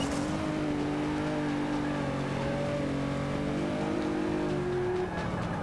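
Race cars in Forza Motorsport 5 accelerate with steady, rising engine whines layered together, a continuous droning roar of several cars running side by side with shifting pitch.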